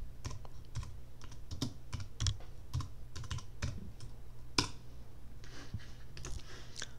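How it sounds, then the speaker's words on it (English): Typing on a computer keyboard while entering a reboot command on an Ubuntu server: a close, quiet series of irregular key clicks with a few sharper taps and short pauses, no talk. "so type sudo reboot"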